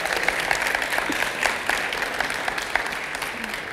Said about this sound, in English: Let's give them a big round of applause too,